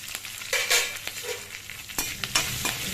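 Green chillies hit a hot kadai of oil for coriander chutney, giving a close, loud burst of spattering pops and crackles over a brief sizzle. No voices.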